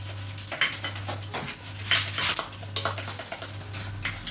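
Cookie dough for sprinkle cookies being worked against the sides of a bowl, a run of scraping, clinking strokes at a loose, uneven rhythm over a low steady hum, close and fairly quiet.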